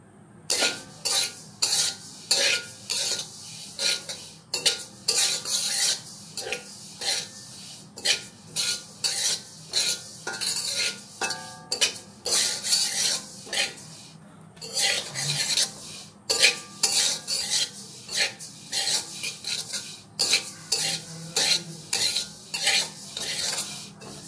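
Sesame seeds dry-roast in a pan for a festive sweet, stirred in quick rhythmic bursts of gritty scraping and rattling against the metal, separated by short pauses, loud and close without speech.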